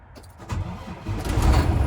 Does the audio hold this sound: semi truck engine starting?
yes